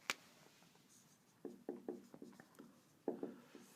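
Marker or chalk scratching across a classroom board, a quick run of short strokes in irregular bursts, close and fairly quiet with no talking.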